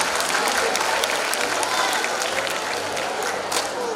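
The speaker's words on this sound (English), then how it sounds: "maybe I request everyone to give a round of applause to Som sir" A crowd applauds steadily, a dense wash of clapping hands filling the room for a few seconds.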